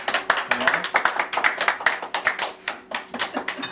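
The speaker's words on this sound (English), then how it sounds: "Do we give a round of applause?" A small group claps by hand at a home dinner as a nut roast is brought out, giving quick, uneven close claps for a few seconds while voices murmur underneath.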